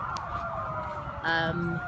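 Wailing motorcade sirens rise and fall at a distance over steady background noise outside Legislative Hall in Dover, Delaware, with a brief louder burst of horn-like tones near the end.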